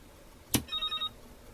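A Brazilian siren sound-effect circuit, built on a breadboard and played through a bench amplifier: a sharp click, then four quick, faint, clipped electronic tone pulses in a steady rhythm, with no talking.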